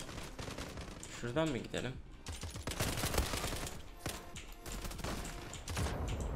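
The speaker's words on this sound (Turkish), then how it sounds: "Şeylere sıkıyorum, varillere diyorum ki belki ölen var olur." Bursts of gunfire in the shooter game Zula, aimed at barrels, crackle in rapid volleys mixed with game noise, while someone speaks briefly over them.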